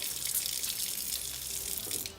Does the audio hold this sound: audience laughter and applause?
no